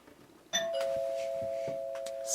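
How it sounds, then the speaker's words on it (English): A doorbell chimes once indoors, a clear electronic tone that rings on and sustains steadily to the end, with faint household shuffling underneath. "Excuse me, doorbell."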